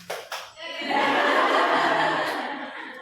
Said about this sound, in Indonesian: Tepuk tangan 1, tepuk pramuka